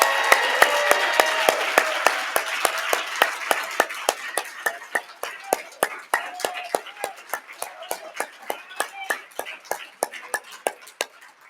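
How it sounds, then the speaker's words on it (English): An audience at the 2022 Georgia Council on Developmental Disabilities candidate forum gives Charlie Miller a final round of applause. Dense clapping settles into steady, evenly spaced claps that thin out toward the end. "Can we have a final round of applause for Charlie Miller,"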